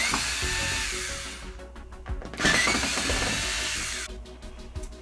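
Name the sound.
power screwdriver removing screws from TCL TV bezel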